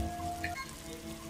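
Steady rain falls in the indie platformer Prophet, a soft, even hiss with no distinct drops standing out.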